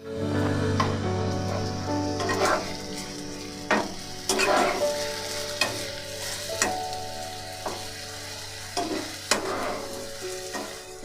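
Onions fried in oil with ginger garlic paste, part of cooking lote fish, sizzle steadily nearby as a spoon stirs and taps the pan at irregular intervals.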